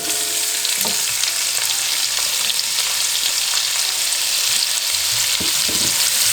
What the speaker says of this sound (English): the cumin have sizzled and is slightly getting golden, and this is when I'm going to add a cup of onion